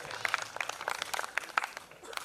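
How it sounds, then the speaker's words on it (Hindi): Sparse, uneven clapping comes from a theatre festival audience, individual hand claps and short bursts standing out rather than a full ovation, with some voices mixed in. "एक बार जोरदार तालियां हम राजकुमार दुबे साहब के लिए चाहते हैं।"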